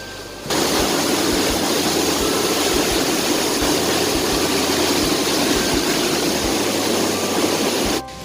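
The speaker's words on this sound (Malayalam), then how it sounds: "നല്ലോണം വെള്ളം ഒഴുകുന്ന ശബ്ദം കേൾക്കാനുണ്ട്" Loud, continuous roar of water rushing through a canal at Peechi dam, starting abruptly and holding steady for about seven seconds before cutting off, with no talk.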